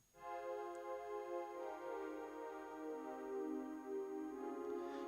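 Wavetable synth intro pad for a liquid drum and bass track with its low end cut, entering after a brief silence and holding a sustained, layered chord that stays even and fairly soft throughout.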